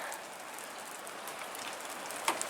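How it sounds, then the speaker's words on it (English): Light rain drizzle falling steadily under gray, windy skies near open water, a soft continuous patter with a brief louder tap near the end and no voices. "it's raining right now. Just a light drizzle, but it's raining"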